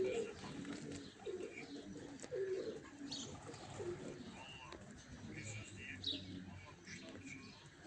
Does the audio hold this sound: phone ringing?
no